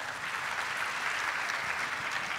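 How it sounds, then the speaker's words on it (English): A keynote session audience applauds the guest speakers on stage, a dense, even wash of clapping from many hands that holds steady for the whole stretch with no voices on top. "A big round of applause for them."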